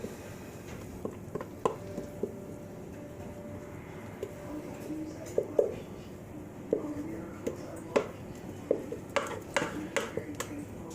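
A spoon spreading mashed potato for shepherd's pie in a dish, with soft scraping and squishing and intermittent light clinks of metal on the dish, steady and close, while people talk.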